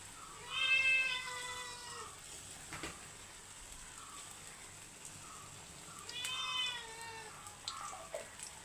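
A cat meows twice, loud and close, with a soft sizzle of ghee in a pan underneath and some faint clatter between the calls.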